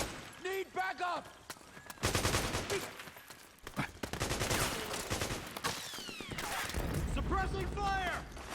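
Gunfire from the Metal Gear Solid 4 video game, dense bursts of automatic fire crackling under shouted voices and game music, loud and close through most of the stretch.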